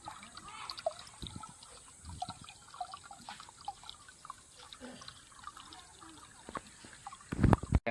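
Water drips and trickles steadily into a cooler while it is filled, with small irregular splashes and a louder splash or clatter near the end.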